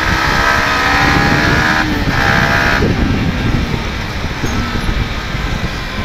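A dirt bike with a Yamaha R15 engine runs close by, a loud, steady engine drone with rough rumble that holds throughout, with no talking.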